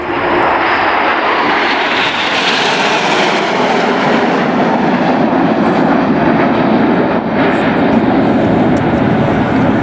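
Red Arrows jet aircraft at an air display at RNAS Yeovilton, with a loud, continuous engine roar throughout that surges slightly as the jets pass close overhead.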